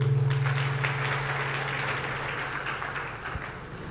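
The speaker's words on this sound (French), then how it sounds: "ça s'applaudit quand même" Applause from an audience at a teachers' oath-taking ceremony, a steady wash of many hands clapping at moderate distance, with a low hum and a brief voice-like tone near the start.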